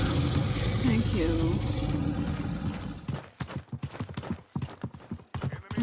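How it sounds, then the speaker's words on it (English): Loud footsteps in the PC version of Paladins come as a rhythmic run of heavy thuds, following a steady droning rumble. "I hear loud footsteps."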